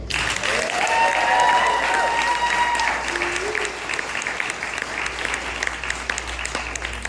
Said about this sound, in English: let's please give them one more big round of applause